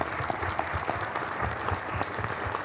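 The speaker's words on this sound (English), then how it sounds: "So let's give Donna a big round of applause." A room of attendees at a city mayor's public meeting applauds together, a steady, moderately loud wash of clapping with a few sharper nearby claps standing out, and no talking over it.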